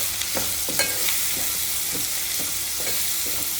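Onions frying in a pan and being stirred, giving a steady loud sizzle with soft, regular scraping strokes from the spoon throughout.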